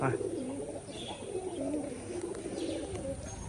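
Pigeons at a Rajshahi pigeon farm keeping up a steady chorus of low, throaty coos, several birds overlapping close by with faint rustling and no talk.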